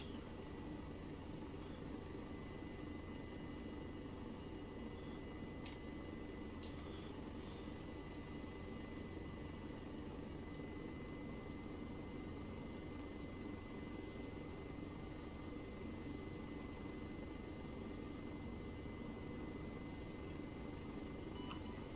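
A helicopter in the military game Arma III lifts off, its engine and rotor a steady, faint, unbroken drone with a constant hum and no other sounds over it.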